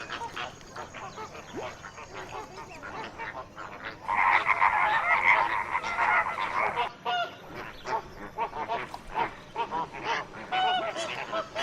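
A dense flock of flamingos in an African marsh keeps up a constant goose-like honking and gabbling, which swells into a louder, thicker chorus for a few seconds midway.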